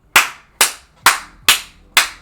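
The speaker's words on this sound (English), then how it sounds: "Deacon, clap them cheek" A hand slaps bare buttocks five times at an even, deliberate pace, each smack sharp, loud and close with a quick decay.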